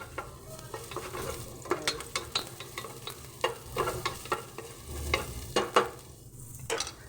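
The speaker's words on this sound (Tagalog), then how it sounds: "Gigisa natin." Ingredients sauté in a pan with a soft, steady sizzle, and a spatula stirs them in frequent clicking, scraping strokes close by. There is no talking.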